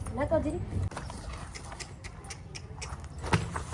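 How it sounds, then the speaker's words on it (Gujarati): A mare's hooves clip-clop during a morning warm-up at a horse stable, heard as scattered light knocks under loud nearby talking. "સવારે ગરમ કરે છે ઘોડીને"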